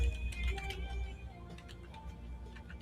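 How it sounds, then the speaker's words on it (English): Rapid clicking of keys on a computer keyboard, light taps in uneven bursts, with faint talking in the background. "The noise of the keyboard going, it makes me feel like I'm working."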